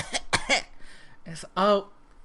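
Several short, sharp coughs in quick succession, then a voiced, groaning sound like a throaty cough or strained exhale, fairly close.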